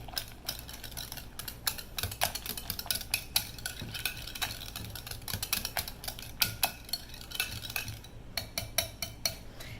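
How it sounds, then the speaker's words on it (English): Pudding being whisked in a bowl while pineapple is folded in for an old-fashioned Southern cream pie, heard as rapid, uneven clicking and scraping of a whisk against the bowl, fairly close and continuous, with no talking. "now we're going to whisk it and fold in the pineapple"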